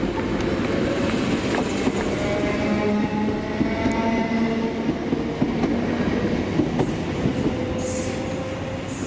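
ScotRail unit 380105 runs past on a Glasgow Central to Largs service, a loud, continuous rail rumble with wheel clatter and faint squeal holding steady throughout.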